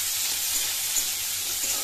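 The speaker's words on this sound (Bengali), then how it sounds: "তেলটা গরম হয়ে এসেছে। এবার এতে আমি পেঁয়াজগুলো দিয়ে দেবো।" Onions hiss and sizzle steadily in hot oil, a dense, even frying sound that holds close and constant with no talking.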